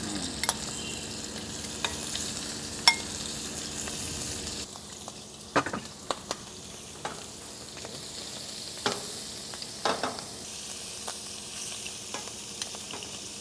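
Prawns fry in coconut oil, a continuous close sizzle with scattered spits and pops and occasional utensil scrapes, heard alone without speech.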